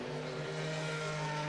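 Lundgaard's Hy-Vee IndyCar accelerates out of pit lane 2 during Indianapolis 500 qualifying, its engine a steady, distant drone that stays even throughout.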